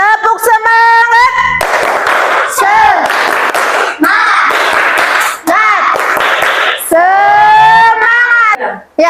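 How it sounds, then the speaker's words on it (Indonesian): A school class claps a rhythmic spirit-clapping pattern, loud and close, with bursts of hand claps alternating with group chanting voices. "Tepuk semangat."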